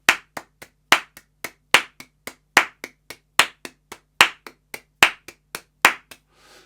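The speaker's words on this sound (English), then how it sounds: "So you can see the power of clapping out these rhythms, right?" Hands clap out a counted rhythm, crisp and close: strong accented claps on each main beat alternate with softer, quicker claps between them in a steady, repeating pattern, with no voice.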